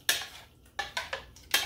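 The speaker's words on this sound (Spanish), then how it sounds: "la vamos a menear" A spoon stirs seasoned chicken gizzards with oregano in a cooking pot, giving four or five close, sharp scraping clinks against the metal at an uneven pace.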